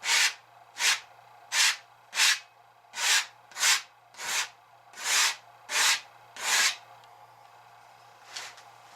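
A scraper spreads white paint across a painting in eleven even rasping strokes, close and fairly quiet, with a faint final scrape after a pause.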